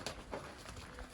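Soft pigeon cooing in short low murmurs, a few brief calls over steady background noise, close and moderately loud.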